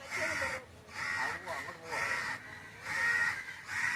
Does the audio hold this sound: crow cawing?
yes